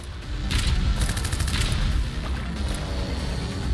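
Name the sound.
bomb going off in video game Corrupted: Dawn of Havoc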